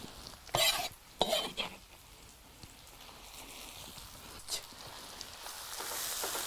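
Tomatoes for lecho are stirred in a pot over a campfire, with two loud bursts of scraping and sloshing early on, followed by a steady low sizzle and crackle that continues to the end.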